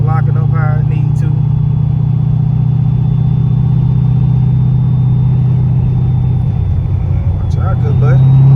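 A car drives at steady speed while its torque converter lockup is tested, giving a continuous low engine drone and road rumble close up, with a person talking over it.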